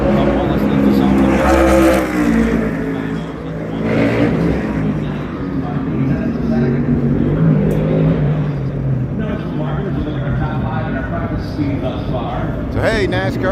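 A NASCAR race car rounding a bend on the Chicago street course, its engine roaring and revving loudly throughout under continuous commentary, with crowd noise behind.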